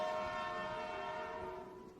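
A steady, tonal train horn sounding continuously, slowly fading toward the end, moderately distant.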